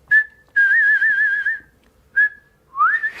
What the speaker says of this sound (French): sur la deuxième note, tu vas mettre un petit vibrato avec un petit mouvement de langue